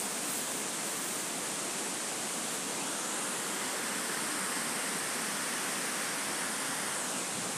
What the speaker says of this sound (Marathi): धबधबा हा मित्रांनो एकदम खतरनाक